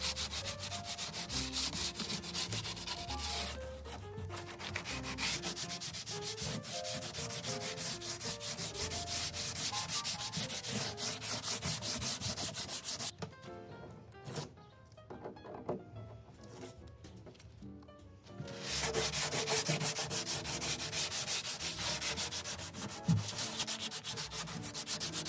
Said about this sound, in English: I was able to sand it down with an 80 grit sandpaper